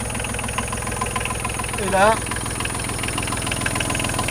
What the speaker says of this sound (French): On a redémarré le moteur.